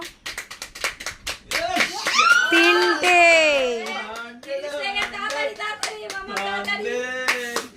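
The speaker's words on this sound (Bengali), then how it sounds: "সবাই হাততালি দাও।" A group of kids claps hands during a party game, with brief rapid claps scattered under lively children's chatter and shouting.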